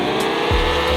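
A car's engine hums steadily in a Roblox driving game, then a sudden low surge as it accelerates, close and continuous with no talk.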